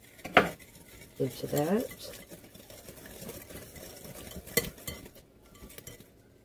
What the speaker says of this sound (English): we're just going to whisk them around like that